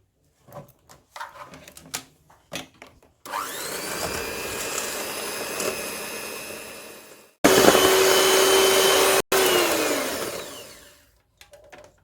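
Electric mixer beating eggs and sugar for an apple cake with nuts, a loud continuous whir that shifts pitch, cuts out briefly and then winds down, with softer clatter before it starts.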